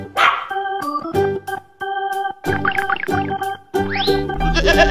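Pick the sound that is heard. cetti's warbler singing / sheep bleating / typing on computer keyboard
sheep bleating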